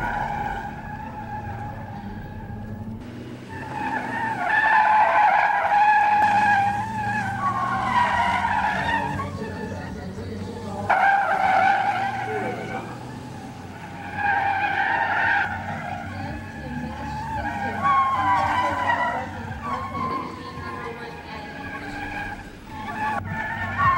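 Silver race cars at a 2005 international gymkhana event squeal their tires through a timed trial, with repeated loud screeching skids rising and fading over engine roar across the whole stretch.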